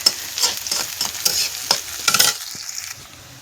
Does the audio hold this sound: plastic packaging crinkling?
no